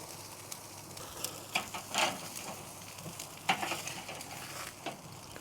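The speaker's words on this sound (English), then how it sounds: "Just a little sear." Meat searing on a Weber Summit Kamado grill outdoors at dusk, a faint crackling sizzle with a few sharper pops and scrapes, heard alone.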